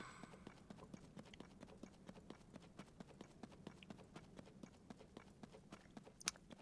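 Steady rhythmic hoofbeats of a skeletal horse in Zelda: Tears of the Kingdom clop along at a walking pace, faint and even, with a brief sharp click near the end.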